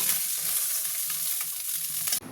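Toruli fish is lifted out of hot oil in a karai during a village-style masala fry, with a close, continuous crackling sizzle that cuts off abruptly near the end.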